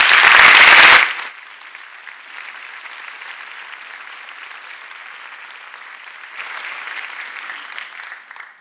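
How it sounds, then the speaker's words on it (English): An awards-night audience at a school district honors event gives a round of applause that opens with a loud burst, then continues as a steady, dense clapping that swells again briefly near the end. "So a round of applause, please."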